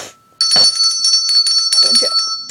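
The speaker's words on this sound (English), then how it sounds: "The phone is ringing." A phone rings with a bright, steady electronic bell tone, continuous and close, with faint murmuring underneath.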